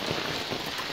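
Heavy rain in Dhangadhi, Nepal, pours down as a steady, dense hiss of countless drops striking water-covered roads and rooftops, loud and continuous with no talking.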